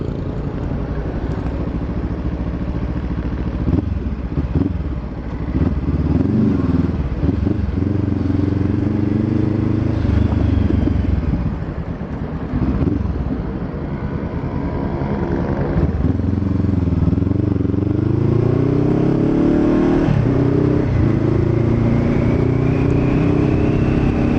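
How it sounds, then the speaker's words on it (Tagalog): A Honda CBR500R motorcycle engine idles and revs with a steady low exhaust rumble, fairly loud and continuous, with a few throttle blips in the middle. "Hindi ko alam kung bakit parang ang bait ng tunog ng muffler"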